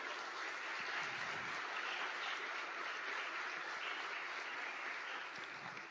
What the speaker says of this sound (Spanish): Denle un gran aplauso al Señor.